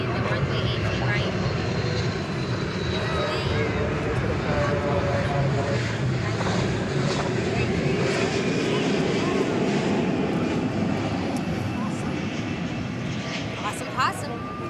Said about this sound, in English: That's a Boeing 752 from Houston, IAH. It's a UPS coming in the runway 18, right?